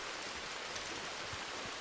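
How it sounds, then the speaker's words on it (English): Heavy rain pours down in the video game Red Dead Redemption 2, a dense, even hiss of falling water with faint patters of drops, heard alone without speech. "Man, it just got pouring down rain, didn't it?"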